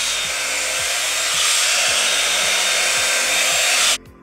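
A Revlon One-Step hot air brush dryer on its cool shot setting blows with a loud, steady rushing hiss and a low motor hum for several seconds, then cuts off abruptly.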